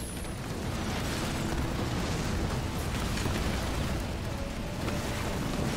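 Heavy explosive blast from a sword launcher in the Halo Wars 2 strategy game, a dense sustained roar of booming detonation rumble filling the whole stretch, loud and continuous with no talk.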